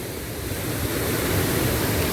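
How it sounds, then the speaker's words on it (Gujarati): Water from two opened gates rushes at Galdhara dam, a steady broadband roar with no break that holds at near-constant loudness throughout. "ઉપરવાસમાં ડેમમાંથી પાણી છોડવામાં આવેલું છે બે દરવાજામાંથી"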